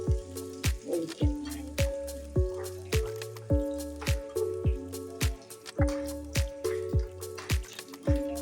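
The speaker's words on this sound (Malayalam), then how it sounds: "ആവശ്യത്തിന് കറിവേപ്പില ഇട്ടിട്ട് നല്ല മൂപ്പിച്ചിട്ട് അത് കറിയിലേക്ക്" Curry leaves sizzling in hot oil as a tempering for a Kerala prawn, jackfruit seed and raw mango curry: close, sharp pops and sputters at a steady, repeating rhythm, with no voices.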